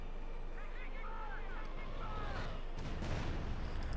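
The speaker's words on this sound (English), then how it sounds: "And we got artillery called in." Artillery fire in Company of Heroes 2 lands as low, rumbling booms that swell toward the end, heard under a caster's ongoing commentary.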